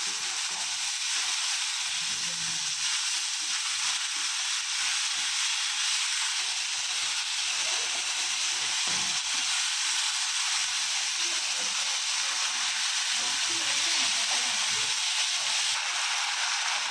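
Mint leaves and tamarind chutney frying in oil in a pan: a continuous, dense, close sizzling hiss that holds steady throughout, with no talking.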